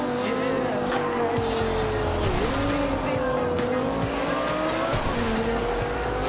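Tyres squeal in long, wavering tones as a car slides in Forza Horizon 2, the skid pitch bending up and down over a steady engine roar, loud and unbroken throughout.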